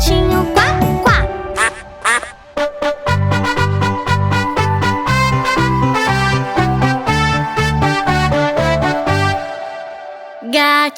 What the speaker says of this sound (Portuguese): Patinho, patinho, quá, quá.